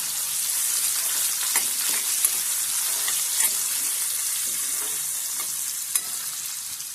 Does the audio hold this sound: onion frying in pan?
yes